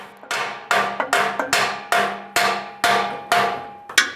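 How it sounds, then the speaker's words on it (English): Sharp metallic hammer taps on an exhaust part of a 1998-2002 Lincoln Navigator during catalytic converter replacement, about nine ringing strikes at an irregular steady pace, close and loud with no talk. "So grab a hammer and tap it out."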